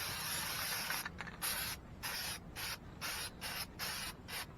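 Aerosol spray paint can hissing in a series of short bursts, roughly one per half second, close and loud, with the can nearly empty, used while painting a project truck.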